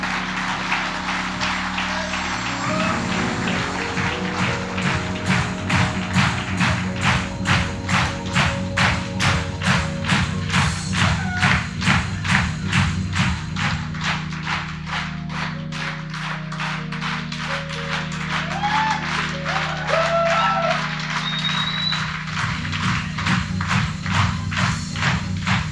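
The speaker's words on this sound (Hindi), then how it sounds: "ताली बजाओ, आपके डायमंड आ रहे हैं।" Rhythmic clapping from an audience as diamond-rank leaders walk onto the stage at a health awareness program, steady beats running throughout over music.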